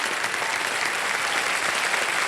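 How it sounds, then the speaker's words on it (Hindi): The studio audience of the KBC television quiz show claps for the contestants, a brief burst of steady, dense applause throughout. "तालियां बज जाए इनके लिए।"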